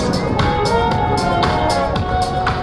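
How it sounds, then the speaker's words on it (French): Airshow crowd at the Cerny La Ferté Alais meeting applauding the Patrouille de France, a spread-out wash of clapping with cheering and shouts, fairly loud and steady, with rhythmic bursts recurring under a sustained tone. "Et sous vos applaudissements"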